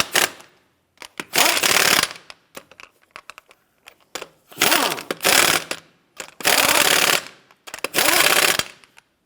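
An impact wrench fires four loud, close bursts of about a second each while snugging down lug nuts on a 1992-1996 Toyota Camry wheel, with small clicks and handling noises between bursts.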